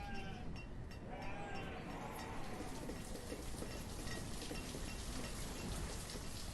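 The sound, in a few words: sheep bleating in the video game Banished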